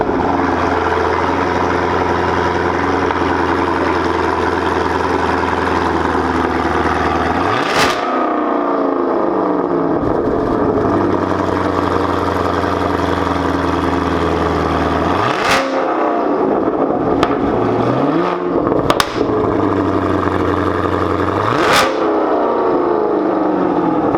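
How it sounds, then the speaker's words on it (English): A 2016 Chevrolet Camaro SS with a Corsa Xtreme catback exhaust, loud and close, idling with a deep rumble and then revving up several times, each rev rising sharply and falling back to idle. "We're gonna start do a couple revs for us."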